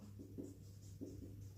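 Faint, close pen-on-paper writing by hand, a few short scratchy strokes in quick bursts over quiet background hum.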